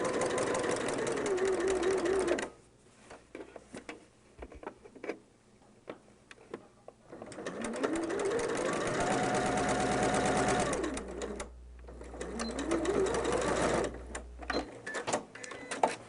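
A sewing machine stitches fabric in two runs: a short trial pass and then a fuller stitch. Each run is a close, rapid mechanical whir with a rising and falling motor tone. Quieter handling noises and pauses fill the gaps between the runs.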